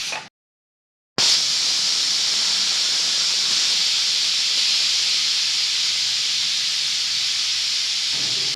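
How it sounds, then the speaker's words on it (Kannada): A pressure cooker cooking vegetable pulao releases a loud, continuous hissing steam whistle that cuts in after a brief silence and rushes on steadily for several seconds. "ಸೊ ನೋಡಿ ಇವಾಗ ವಿಸಿಲ್ ಬರ್ತಾ ಇದೆ"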